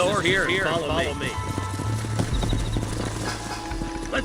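Horse hooves clop steadily alongside whinnying in the video game Red Dead Redemption, while someone speaks over the sounds of the animals and some low rumbling.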